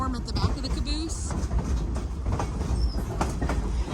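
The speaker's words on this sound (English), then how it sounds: "That's another train right there." A train passes on the railway near Sedona, Arizona, heard from aboard a luxury private train: a loud, continuous rumble and clatter with brief wheel squeals, and voices talking over it.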